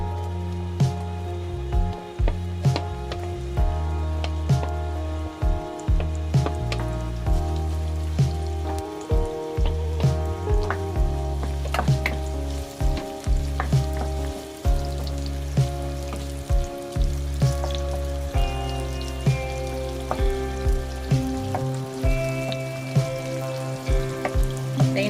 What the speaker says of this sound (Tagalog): Maglagay na ako ng mantika guys. Lagyan na natin ang ating sibuyas.